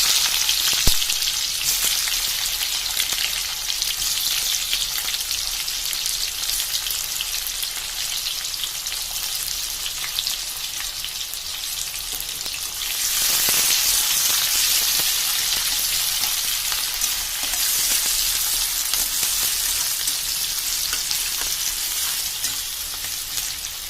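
Chopped onions fry in hot oil in a pan while a gourd curry is being cooked in a home kitchen, giving a continuous, loud, even sizzle that barely changes over more than twenty seconds.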